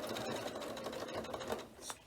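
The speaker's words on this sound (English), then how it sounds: "to save me breaking thread I'll stitch across the bottom" A sewing machine stitching across the bottom edge of a fabric notebook cover, a fast, even, close mechanical whirr running steadily and alone with no talk.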